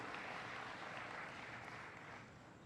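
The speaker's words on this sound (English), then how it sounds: "Give them a round of applause." Steady audience applause for the St. Augustine Gospel Choir at a celebration brunch, a dense wash of clapping from a crowd that holds level and fades slightly at the end.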